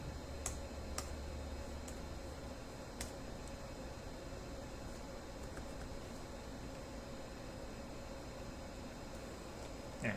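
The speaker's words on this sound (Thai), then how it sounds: "คีย์บอร์ดแท็บนะครับ สามารถพิมพ์ได้นะครับ" Typing on the keyboard of a Lenovo Yoga 520 14IKB laptop after a motherboard repair: a few sparse, light key clicks over a steady background hiss, with no talking.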